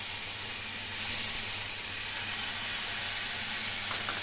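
Chopped onion with turmeric and salt fries in a pan, giving a steady, even hiss and sizzle throughout. It sounds fairly loud and close, with no voices.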